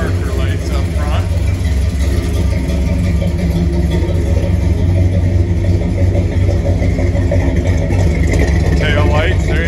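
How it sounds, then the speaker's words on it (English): Deep, steady engine rumble from the exhaust of a 1934 Ford street rod idling close by, a constant low throb with someone talking over it. "there you can hear the exhaust, got a nice rumble to it"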